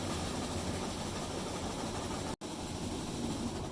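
A Super X 298D seed cleaner with a VFD runs at reduced shake speed, giving a constant dense mechanical rumble and rattle with a single brief dropout partway through.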